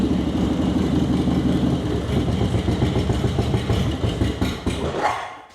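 A 2001 Harley-Davidson motorcycle engine idles cold on choke, a loud, steady, close lumpy rumble with a faint cold tick, running throughout before easing off near the end.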